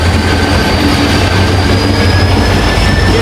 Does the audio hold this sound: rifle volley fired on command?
no